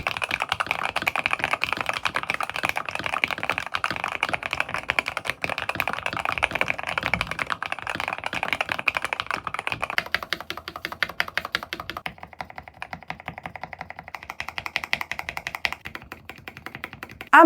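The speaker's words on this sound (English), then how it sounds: "because of the tray mount, the keyboard doesn't sound evenly" Rapid typing on a Hummingbird68 tray-mount keyboard with fixed stabilizers, close and crisp, with dense clacking keystrokes that thin to sparser, lighter taps in the later part.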